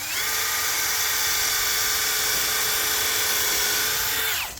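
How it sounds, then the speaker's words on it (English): A power drill whines at a steady high pitch for about four seconds, pre-drilling a pilot hole in wood, close and loud, then winds down and stops. "always put you a little pre-drill right in there"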